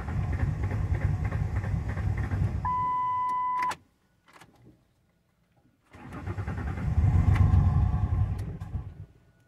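A 1998 Ford Windstar that sat for 14 years cranks with a loud, steady starter whir, pauses into near silence with faint clicks, then cranks again in a second long, rumbling burst.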